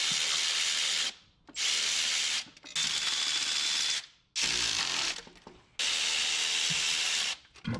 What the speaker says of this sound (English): So I can put a ratchet on the bottom side, which is a little quicker for us.